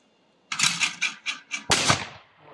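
A gunshot fired outdoors at a bush campsite cracks out close and loud, a sharp broadband blast that decays over about a second, preceded by a quick run of rhythmic bursts.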